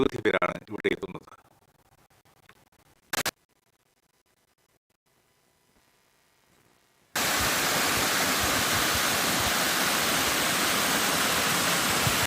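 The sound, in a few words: waterfall at Kadangode Mallankuzhi stream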